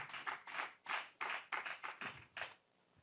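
A small group clapping at an AI workshop for traders: roughly eight quick, rhythmic bursts of applause, fairly faint, then a sudden stop, with no talking.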